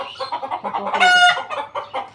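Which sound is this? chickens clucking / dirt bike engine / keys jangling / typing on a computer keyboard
chickens clucking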